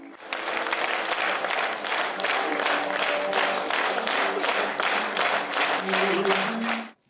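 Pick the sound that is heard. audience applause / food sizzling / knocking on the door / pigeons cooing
audience applause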